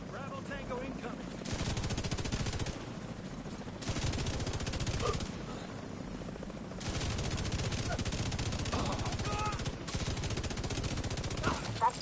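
Gunfire in the video game The Division 2, with repeated rapid bursts and shots forming dense, loud volleys through most of the stretch, underneath game voice lines and radio chatter.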